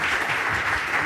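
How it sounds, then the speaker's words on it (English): Spontaneous audience applause at a Data for Good Barcelona talk evening, a dense, steady wash of many hands clapping at close range with no voices over it. "So an spontaneous applause to Didac"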